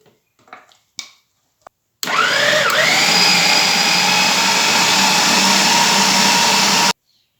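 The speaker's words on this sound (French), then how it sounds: "Versons à présent la pâte à choux dans le mixeur." A food processor blends choux pastry with poultry meat for quenelles, a loud steady motor whir lasting about five seconds after a few light clicks and knocks, with the pitch dipping briefly as the blade bites into the mixture.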